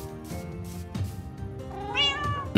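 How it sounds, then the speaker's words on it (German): A cat in Minecraft meows several times, closing on a long, rising, drawn-out meow, with no talking. "Na, wo ist denn die andere Katze?"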